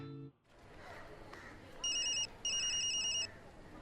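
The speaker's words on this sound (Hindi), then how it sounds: "फोन की घंटी से अनिरुद्ध की नींद खुली।" A telephone rings twice in quick succession with a bright electronic tone. The rings are fairly soft against a quiet background.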